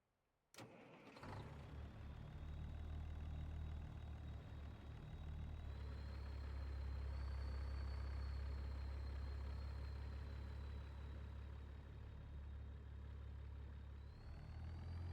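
A truck engine in American Truck Simulator cranks over with a sharp click and catches, then settles into a steady, low rumbling idle that holds for over ten seconds, with no talk.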